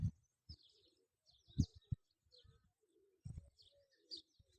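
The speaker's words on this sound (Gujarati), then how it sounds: "આ ચંબૂતરો છે અને પંખી ચણી રહ્યા છે।" Pigeons and other birds at a temple feeding platform, quiet close taps and thumps of pecking grain with soft coos and chirps, wings shuffling in brief bursts.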